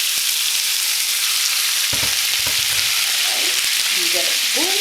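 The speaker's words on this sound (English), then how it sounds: "get ready to hear the sizzle" Loud, steady sizzling of peppers frying in a hot pan, with a few clanks and short squeaks of stirring near the end.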